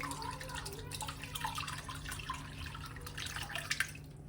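Leftover whey water from homemade brine cheese is poured slowly, a soft continuous trickle and dripping splash close by, ending with a couple of sharper drips.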